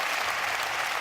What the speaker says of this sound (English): Round of applause if you are.